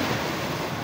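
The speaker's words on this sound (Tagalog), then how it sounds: "miss ko yung tunog ng dagat." Sea waves wash onto a beach in a brief, steady broadband rush that sounds fairly close, with no voices.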